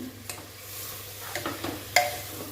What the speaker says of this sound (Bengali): এবার এগুলো নাড়িয়ে দিলাম।